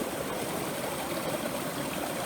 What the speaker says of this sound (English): so I've just come across this waterfall, and so I'm just filling up